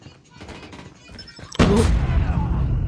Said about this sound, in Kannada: ಓಹ್ ಇವ್ರು ರಾಕೆಟ್ ಬಿಟ್ಟವನಲ್ಲ ಗುರು,